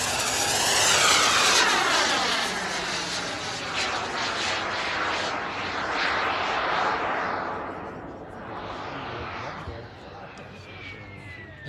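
An RC model jet with a turbine engine flies past at an RC park, a loud roaring whine that swells overhead and then fades with a falling pitch as it moves away.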